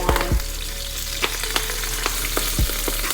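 Spinach hitting olive oil on a griddle at 350 degrees gives a loud, continuous sizzle, broken by a few sharp pops and spatula scrapes, with no talking.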